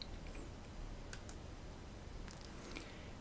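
A computer mouse clicks while Kindle for PC is opened on a desktop: a quick pair of soft clicks near the middle and a few fainter ticks later, close and quiet over low background hiss, with no talking.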